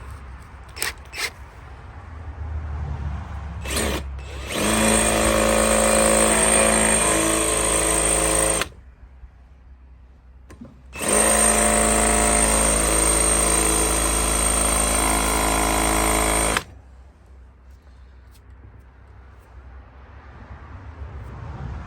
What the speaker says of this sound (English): let's see if I could just drill it out